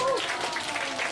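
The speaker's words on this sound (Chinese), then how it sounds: "来掌声鼓一下吧" Audience applause at a holiday science magic and stunt show: a dense, steady patter of clapping that fills the whole moment, with a brief voice at the start.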